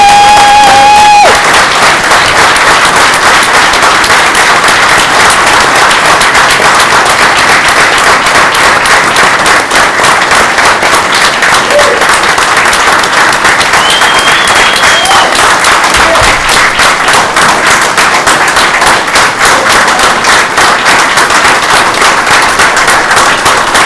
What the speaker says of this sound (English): Please join me in giving a warm welcome, round of applause, Roundabout Fire Department Chief, Car 3, Jo